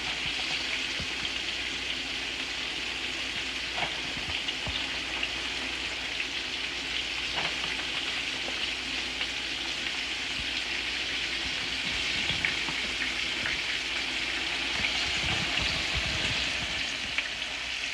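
Floured moose heart frying in olive oil in a pan over close to medium heat, giving a steady, soft, continuous sizzle with faint crackles and occasional light pops throughout.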